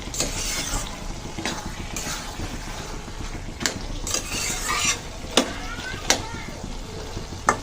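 Bottle gourd (lau) sizzles in a pan while a metal spatula scrapes and stirs it, with sharp clanks at intervals over a constant frying hiss.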